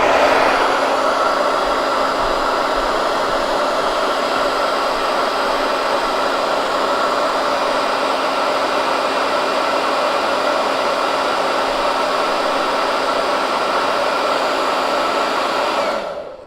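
A heat dryer blows steadily on chalk paste over a winter village board, a loud close continuous whooshing whine that holds level before cutting off at the end.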